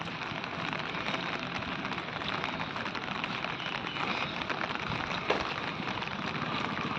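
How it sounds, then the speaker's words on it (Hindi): Light evening rain falls steadily outdoors, a soft, even hiss with no voices and no distinct thunder. "शाम को अभी देखो बारिश हो रही हल्की हल्की"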